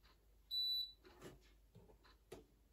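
An air fryer control panel beeping as settings are entered, one sustained bright electronic beep followed by faint button clicks and handling noise, close and quiet.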